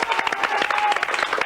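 Children and audience on a French TV kids' show applaud after a coin-vanishing magic trick, a short burst of brisk, dense clapping with a faint tone running underneath.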